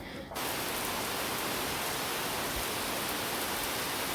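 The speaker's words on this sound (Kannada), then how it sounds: "ಇವತ್ತು ಮಳೆ ಬಂದಿದೆ." Steady rain falls in a hot village on a rainy day, a dense, even hiss that starts abruptly after a brief quieter moment and continues unbroken, close and fairly loud, with no voices.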